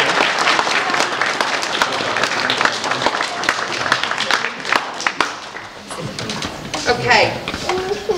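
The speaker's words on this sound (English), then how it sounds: "Let's give them a round of applause" Wedding guests applaud and clap steadily throughout, a broad sustained wave of clapping with some voices and a child mixed in, thinning slightly toward the end.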